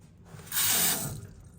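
A short burst of faucet water running into a low, wheelchair-accessible sink in a hotel bathroom, rising quickly, holding for about half a second, then fading, close by.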